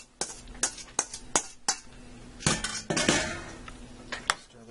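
A utensil stirs elbow macaroni with sauce, cheese and hamburger in a pot, giving a series of sharp metallic clinks and scrapes against the pot's sides followed by a longer mushy stirring sound.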